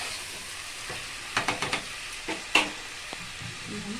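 Tomato rice fries in a pan with a soft background sizzle, while a spoon stirs it, making a quick cluster of scraping knocks and then a few scattered clinks, close up and with no voices.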